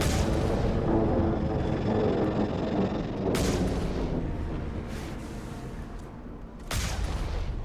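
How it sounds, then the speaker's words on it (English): Grenade explosions in the video game Mass Effect during a firefight against geth, heavy rumbling blasts layered over continuous loud battle noise, with sharp bursts recurring every few seconds. "So we simply keep shooting at it with our grenades."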